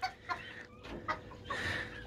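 A young breeding rooster in a backyard coop gives several short clucks in an irregular rhythm, close and fairly quiet.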